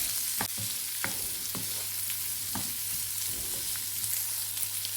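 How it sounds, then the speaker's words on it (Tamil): Onions sauté in oil for a boiled egg gravy, a soft steady sizzle broken by several scraping clinks of a spoon stirring the pan, close and alone. "எண்ணெயிலே நல்லா வதங்கட்டும்."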